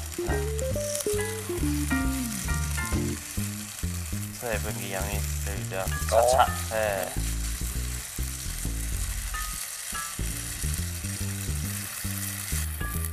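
Food sizzles and fries steadily in a pan beneath continuous music, with brief talk partway through; the frying stays at an even, moderate level.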